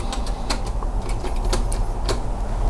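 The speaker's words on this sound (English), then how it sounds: "It's like a little typewriter, but it just has numbers." A small typewriter-like receipt machine with number-only keys, handled in an abandoned house, gives off a run of sharp, irregular mechanical clicks and taps over faint room noise.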